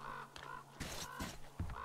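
A raven in the game Metro Exodus gives a series of harsh, rasping caws, about five close calls in quick succession, loud and near with no talk.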